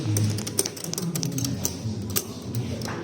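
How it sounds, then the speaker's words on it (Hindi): Plastic keys on a typewriter-style calculator clack in an irregular run of sharp taps, close by, over a low background hum with faint voices in the room. "typewriter calculator"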